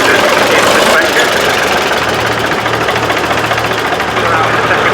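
A 19-year-old Ford tractor with front suspension idles at a tractor show, its engine chugging in a steady, loud, knocking rhythm while someone talks over it.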